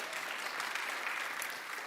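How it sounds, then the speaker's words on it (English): Thin, brief applause from an audience at a forum: a light, steady patter of scattered clapping, fairly distant, with no voices over it. "There's a minimal applause"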